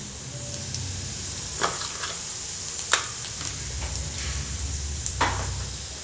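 Cumin, mustard seeds and dry red chillies sizzle in hot oil for a tomato curry, a steady soft hiss broken by a few sharp pops and crackles, close and alone with no talk.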